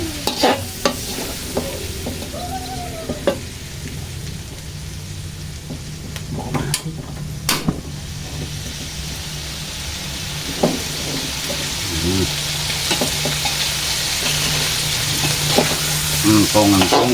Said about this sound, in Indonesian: Entong-entong iwak asin ngeten iki.